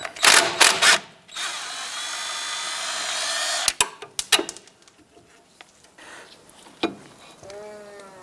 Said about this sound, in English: Using your 18mm socket, loosen the nut.